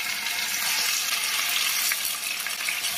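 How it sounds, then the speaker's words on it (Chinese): Thick tofu slices fry in generous oil in a preheated flat pan, giving a close, constant crackling sizzle that stays even and unbroken from start to finish. "平底锅预热加油，稍微多一些，把切好的豆腐块放进来给它煎一下"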